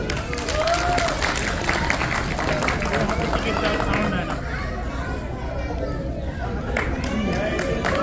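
A crowd at a Bangladeshi Pohela Boishakh and Eid party in St. Louis applauds loudly for a senior member, a steady, dense clapping that runs throughout with crowd chatter and voices mixed in.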